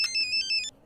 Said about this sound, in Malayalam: സെൽഫോൺ ഓഫ് ചെയ്യ്.